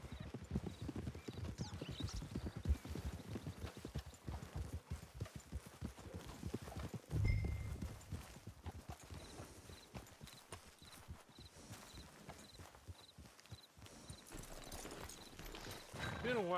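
Horse hooves clip-clop at a steady walking pace in the Red Dead Redemption 2 Online video game, continuous and moderately close, with a brief snort partway through and game character speech over them.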